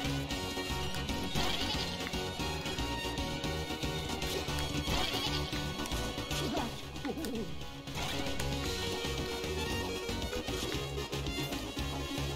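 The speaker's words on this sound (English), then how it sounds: "Oh, these fucking goats." Repeated goat bleats from the Duck Tales video game in the Snowy Mountains level, mixed with crash and hit effects over continuous chiptune music.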